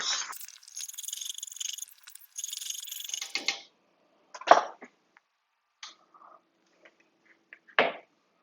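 Gumbo being whisked in a pot over lowered heat: a few seconds of quick, busy scraping and stirring, then a handful of short, isolated clinks and knocks close by with quiet gaps between them.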